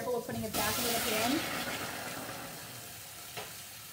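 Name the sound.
pasta tossed in butter lemon sauce in pan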